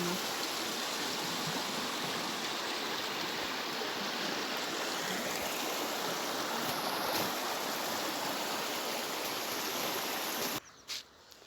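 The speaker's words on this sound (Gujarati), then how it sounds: "ત્રણ નદી ભેગી થઈને પાણી આ પુલની નીચેથી જાય છે" River water formed where three rivers meet rushes under a bridge in a loud, continuous broadband roar that holds steady for about ten seconds before cutting off abruptly.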